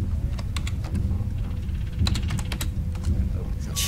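Keyboard typing in the video game Alien Isolation, sharp clicky keystrokes arriving in quick irregular clusters over a low background hum, with a person talking partway through.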